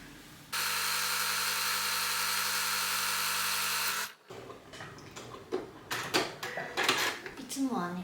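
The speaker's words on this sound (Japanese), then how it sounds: "高速で縫うとすっごい机が揺れますね" A sewing machine stitching fast on a dining table runs as a loud, steady motor whir for about three and a half seconds, then stops, followed by quieter clatter and handling noises.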